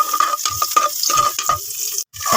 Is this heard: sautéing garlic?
yes